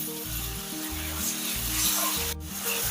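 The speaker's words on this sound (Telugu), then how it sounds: "ఇందులో కొంచెం అల్లం వెల్లుల్లి పేస్ట్ 2 స్పూన్లు పడుతుంది. కొంచెం పచ్చివాసన పోయేదాకా వేయించుకోవాలి." Ginger garlic paste frying in a pan with curry leaves gives a steady, close sizzle, with soft scraping and stirring sounds over a low rumbling background throughout.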